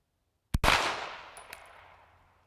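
One sharp, loud gunshot cracks during target shooting practice, followed by a long fading echo and a faint metallic ping from the target a moment later, with no talk.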